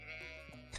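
A sheep in the Stardew Valley farming video game bleats briefly over a steady game music bed, with the call rising near the end of the short moment.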